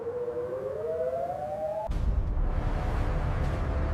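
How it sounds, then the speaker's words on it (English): An air raid siren in Tel Aviv wails, rising slowly in pitch over a couple of seconds, then cuts off abruptly into low rumbling background noise. "Sirens were heard in Tel Aviv as interceptor missiles were fired into the dark night"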